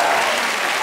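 Loud, dense clapping from a studio comedy audience fills the short moment, steady and close throughout, cheering a Gag Concert stunt performer doing pull-ups while clapping.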